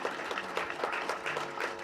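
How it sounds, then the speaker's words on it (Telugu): An audience claps at a film press meet, with fairly soft, rhythmic, steady clapping from a small crowd. "గట్టిగా మీరు దయచేసి క్లాప్స్ కొట్టాలి"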